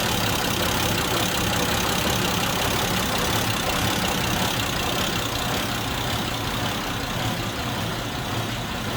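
A 1927 Hupmobile engine idles continuously, a low, even rumble with a faint hiss over it and no voices.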